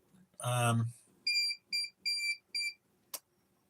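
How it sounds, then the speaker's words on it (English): A short burst of sound, then four high electronic beeps in an uneven series, followed by a brief sharp click, fairly close and clear. "We gotta stop this beeping."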